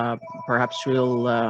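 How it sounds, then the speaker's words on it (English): A telephone rings in the background of a livestock-breeding talk, with a faint tone sitting under a speaker's voice that carries on talking over it. "Apologies for the phone ringing in the background."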